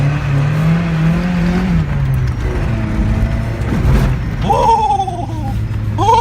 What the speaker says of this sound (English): But yeah, dude, the Miata, it rips.